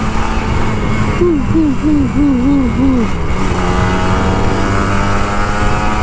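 Older Kawasaki Ninja RR 150 accelerating on a Jakarta street, a loud buzzing engine note with a quick series of warbling rises and falls in pitch, then a steady drone with traffic around.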